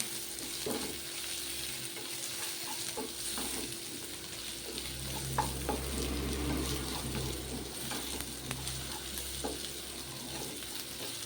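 Turmeric is stirred into a boiled egg masala frying with onion, ginger and garlic, giving a steady close sizzle under scraping stir strokes, with a low rumble in the middle.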